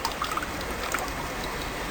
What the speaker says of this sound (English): Again, we drain the overlying water